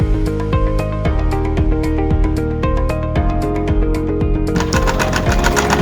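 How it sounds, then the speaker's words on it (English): A white zigzag sewing machine stitches fabric with a dense, rhythmic mechanical clatter that runs continuously and loudly, close up and without speech. "the work of this machine is to give you your zigzag stitch."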